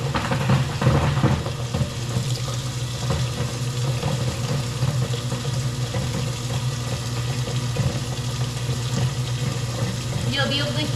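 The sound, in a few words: garbage disposal (garburator) running with hot water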